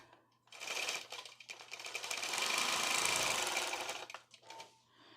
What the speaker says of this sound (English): So what I'm really just trying to do is just add quilting